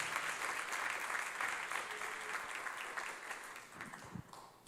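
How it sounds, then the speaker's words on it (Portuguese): Sustained applause from a church congregation, steady and dense clapping that gradually thins toward the end. "Aplauda o nome do Senhor Jesus."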